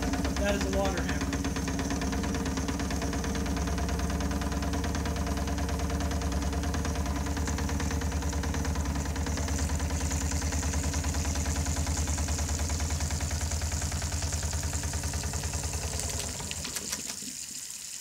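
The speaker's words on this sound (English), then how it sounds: "That is a water hammer." A water hammer pump moving water, heard as a steady mechanical churning with rhythmic low pulses and a running-water wash, continuous and fairly loud before fading near the end; a voice talks over part of it.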